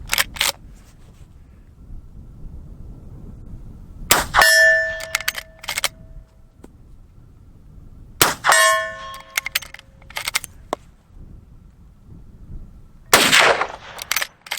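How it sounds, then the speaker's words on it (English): A Rossi R92 lever-action rifle fires factory .357 hollow point rounds at steel targets: three sharp, loud shots spaced several seconds apart, each followed by a ringing metallic clang and brief clatter, with quiet gaps between. "And then I'm going to fire some factory 357 ammo."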